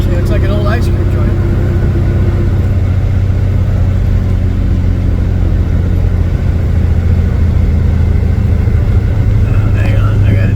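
A classic car's engine rumbles loudly and steadily up close, with low droning tones and a shift in engine note during a long-distance classic car tour drive; someone talks over it.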